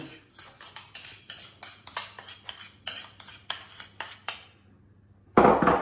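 Utensil rapidly mixing slaw salad and dressing in a bowl, a fast run of sharp, close clinks and scrapes for several seconds, a brief pause, then a final louder clatter.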